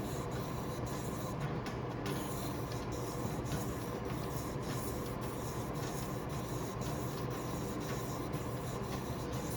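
Fine 1500-grit sandpaper worked by hand over the body of a 1961 Impala hardtop makes a steady, close, continuous rubbing hiss. It keeps an even level throughout, with no voices.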